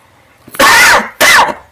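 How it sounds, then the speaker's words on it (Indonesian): Two loud, harsh coughs in quick succession, close to the listener, with a short pause between them and quiet before and after. "agak batuk"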